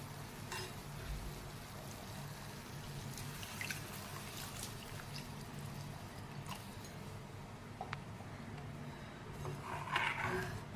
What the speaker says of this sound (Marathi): आवश्यक तेवढं आता मी पाणी घालते आहे. पाणी मी थोडंसं गरम करून घेतलेलं आहे.